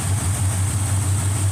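Car engine idling during a radiator test, a steady, loud low drone with an even pulsing rhythm, close by and uninterrupted.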